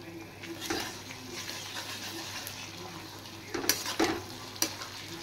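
Onion, capsicum and ginger-garlic paste frying in a pan, with a soft, steady sizzle and a few sharp spatula scrapes and clicks toward the end.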